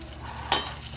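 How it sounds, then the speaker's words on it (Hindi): Tomato paste and masala being fried in a pan, a steady low sizzle with one brief stirring scrape in the middle, close and moderately loud, with no talking. "तो मैं अब टमाटर का पेस्ट और जो हमने मसाला का बनाया है वो इसमें डाल दिया। तो उसको भी हम भूनेंगे"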